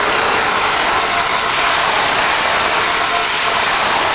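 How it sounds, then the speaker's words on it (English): A 20 horsepower Schold dissolver dispersion mixer fitted with a 12-inch blade runs at full speed, a loud, continuous broadband roar with a steady whine that holds unchanged throughout. "this is a 20 horsepower Schold dissolver"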